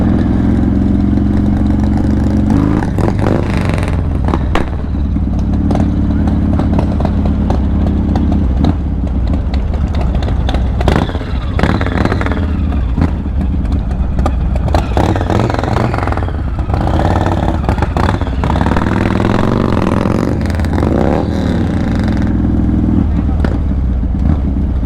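A crowd of motorcycles at a bike rally at the Baldwin Blessing of the Bikes pre-rally party, loud continuous idling and rumbling engines with occasional revs and clatter, close and dense throughout, with people talking over the noise.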